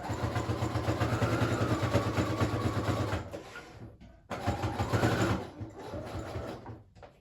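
A sewing machine runs a zigzag stitch along the edges of a small handmade journal, giving a steady close mechanical whir that pauses briefly, then starts again and stops.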